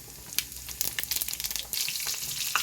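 Mustard seeds, cumin and homemade vadagam fry in hot oil, crackling and popping in quick irregular bursts over a continuous close sizzle.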